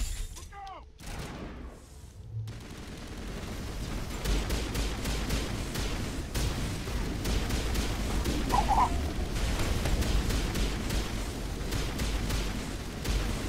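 Gunfire in the video game Mass Effect as a body is shot repeatedly, with a rapid string of sharp, loud shots over a constant rumbling game background.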